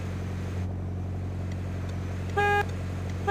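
The horn of a right-hand-drive Zhiguli sounds briefly in the Car Driving Online video game, one short honk over a steady engine hum.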